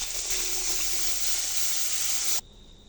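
Water pours into a kadai that already holds sugar for semolina barfi. A steady, close rush of liquid lasts about two and a half seconds, then cuts off abruptly.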